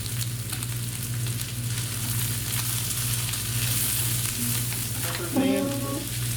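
Cabbage sizzles as it goes into a chicken stir fry with onions, water chestnuts and celery, a steady soft frying hiss under a low hum, with a brief clatter near the end.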